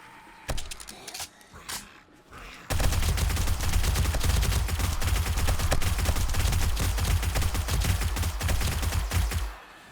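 Dense, sustained gunfire from guns and sledge turrets defending against a zombie horde in the game 7 Days to Die, loud and continuous after a few scattered opening shots, with rapid overlapping bursts and heavy low thumps.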